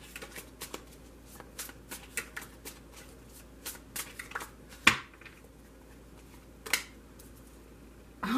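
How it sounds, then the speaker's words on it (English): Brief tarot card shuffling, a run of soft rapid flicks and taps, then a sharper snap and a couple of louder handling sounds before quiet. "I have pre-shuffled this deck, so I'm only going to shuffle it for a moment."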